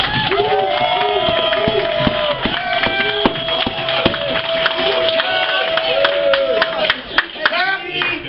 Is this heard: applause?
yes